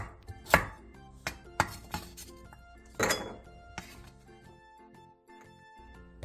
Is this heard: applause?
no